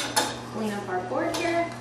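A cutting board is cleared off with clattering knocks and scraping of a utensil against the board, several close, sharp hits over a short stretch with a faint steady hum underneath.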